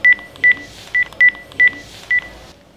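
A telephone number is dialed with six short, loud touch-tone beeps in an uneven rhythm, heard alone against a quiet background.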